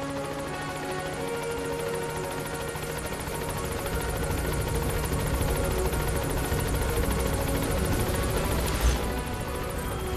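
A helicopter in the video game Metal Gear Solid 5 keeps up a steady, loud rotor drone with a fast rhythmic beating that runs without a break, alone and with no talk over it.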